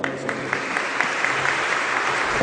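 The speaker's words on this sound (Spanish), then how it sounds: "Aplausos, por favor." An audience at a formal lecture bursts into continuous applause, a dense, even wash of clapping from many hands that holds steady from start to finish.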